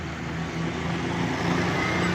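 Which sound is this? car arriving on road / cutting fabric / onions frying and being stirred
car arriving on road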